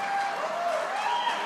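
A crowd applauds steadily in a continuous, fairly faint wash of clapping, heard briefly without pauses.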